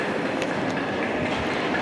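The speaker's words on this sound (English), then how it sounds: "Behind me is the Caledonian Sleeper, 2150 to Fort William, Inverness and Aberdeen, which 92043 has brought it in empty stock." The Caledonian Sleeper empty stock train, hauled in by locomotive 92043 at a London station, gives a steady, loud rumble of rolling railcars throughout, with faint wheel clicks and no talk.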